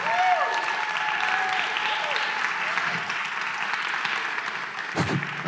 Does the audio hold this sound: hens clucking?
no